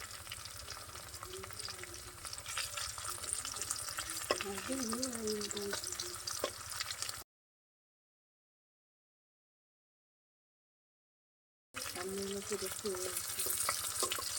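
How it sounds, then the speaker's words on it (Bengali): Shrimp fry in a pan with a steady sizzle and occasional stirring scrapes, broken by a few seconds of silence before the sizzling resumes; a voice murmurs faintly at times. "চিংড়ি মাছগুলোকে ভাজা হচ্ছে মানে হলো ফ্রাই"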